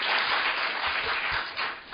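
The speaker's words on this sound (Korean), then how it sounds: "큰 박수로 환영해 주시기 바랍니다." Applause from a political party audience welcoming a lawmaker to the podium at a forum, a brief, steady wash of many hands clapping throughout.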